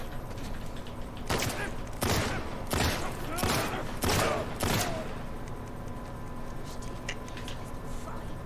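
Gunfire in The Last of Us Part II cracks out in six evenly spaced shots over a steady low background hum, then the firing stops and only the hum remains.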